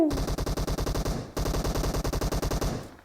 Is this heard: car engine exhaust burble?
no